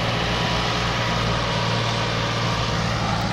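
A Massey Ferguson 260 turbo tractor engine labours hard pulling a heavily loaded sugarcane trolley, a loud, steady throbbing drone with a low rumble, heard close and alone.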